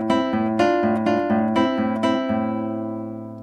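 A classical guitar plays Carulli's Andante in A Minor with bass-chord boom-chick technique, alternating plucked bass notes and strummed chords in an even rhythm, close and clear, with the final chord ringing out.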